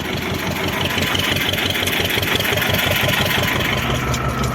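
A small tractor engine idles loud and close in a steady, rhythmic diesel chug with a faint knocking pulse, running alone without voices.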